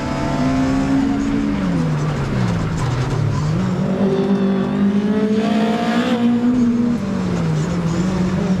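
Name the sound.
Lada race car engine revving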